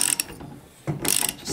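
A ratcheting wrench clicks rapidly on a 19 mm bolt of a Honda Hobbit PA50 II moped engine, two short close bursts separated by a brief pause.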